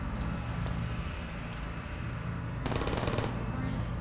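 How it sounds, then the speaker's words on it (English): Turret gunfire in Portal rattles along steadily, a sustained rapid burst of shots with bullets striking the floor, growing brighter and harsher near the end, heard at a moderate distance. "I think the bullets are just hitting the floor."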